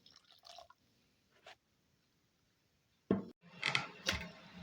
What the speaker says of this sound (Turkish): Şimdi ılık suyumu da yavaş yavaş kontrollü bir şekilde ilave ederek yoğuracağım hamurumu.